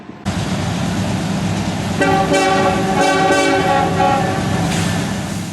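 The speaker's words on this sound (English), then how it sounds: "Let's look at this freight train here filmed in Duluth, Georgia." A freight train hauled by diesel locomotives rumbles steadily past in Duluth, Georgia, with a loud, deep engine drone, and its horn sounds in a few long blasts.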